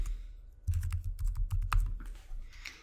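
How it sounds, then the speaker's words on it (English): A tab name is typed on a computer keyboard while setting up a Power BI report tab in Microsoft Teams: a rapid, dense run of crisp keystrokes, close and fairly loud, after a brief quiet start. "for the tab name, I'll type in Power BI"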